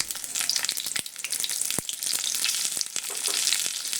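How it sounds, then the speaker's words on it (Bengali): Eggplant sizzles and fries steadily in a pan for vegetarian begun bhapa, with occasional scraping knocks as it is stirred, close and continuous, no talk. "বেগুনগুলো আমি খুব ভালো করে নেড়ে নেব।"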